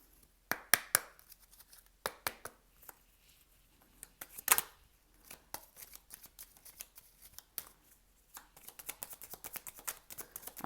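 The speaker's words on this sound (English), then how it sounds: "Okay, so I'm going to shuffle on camera." Tarot cards shuffled by hand nearby, irregular bursts of crisp riffling and snapping card edges with brief pauses between, quiet and close.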